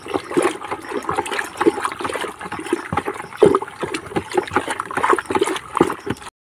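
Water pours into a salt mixture made to kill grass, a loud continuous gushing and splashing that runs for several seconds and then stops abruptly.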